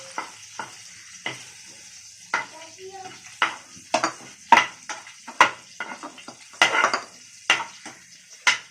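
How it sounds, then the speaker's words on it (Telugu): Green chillies fry in a pan alongside a Godavari valanki fish fry, a steady sizzle broken by frequent sharp clinks and scrapes of stirring, close and fairly loud, with no talking. "రెండు పచ్చిమిరపకాయలు ఫ్రై చేద్దామండి"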